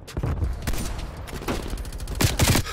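Rapid gunfire bursts in the shooter video game Black Ops Cold War, a dense fusillade of sharp cracks spread across the clip, loud and continuous.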